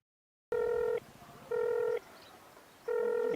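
Phone ringing with an incoming call in a Marathi film scene, three evenly spaced electronic ring bursts, loud and close, with short quiet gaps between them.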